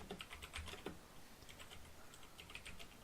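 Quick, steady keystrokes clatter on a clicky computer keyboard in irregular bursts, faint and distant, with no voices over them.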